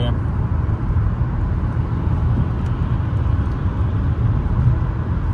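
Cabin noise of a Toyota Camry 2.4 automatic cruising on a highway, a steady low road roar and engine drone that stays loud and unbroken from start to finish.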